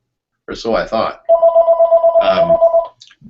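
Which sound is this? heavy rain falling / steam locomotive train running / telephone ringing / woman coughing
telephone ringing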